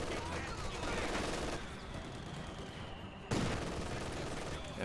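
Bursts of machine gun fire in the real-time strategy game Company of Heroes 2, a rattling stream of rapid shots mixed with other battle noise and faint background voices, with a sharper burst breaking in near the end.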